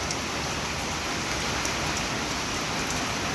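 Heavy first monsoon rain pours down steadily and loudly, a dense unbroken hiss of drops on surfaces with no voices.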